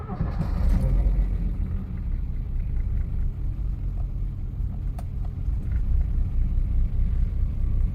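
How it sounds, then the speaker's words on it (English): Classic car with a straight-six engine starts promptly and settles into a smooth, steady low idle rumble, heard close and continuous with no talking. "Starts right away. Pretty smooth for a straight 6 engine, okay?"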